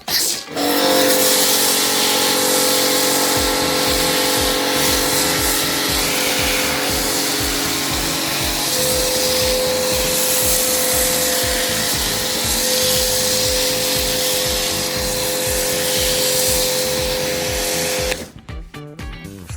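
A pressure washer drives a foam cannon, spraying pre-wash foam mixed 1:7 onto a car: a loud, steady hiss over a humming motor runs for about eighteen seconds, then cuts off abruptly.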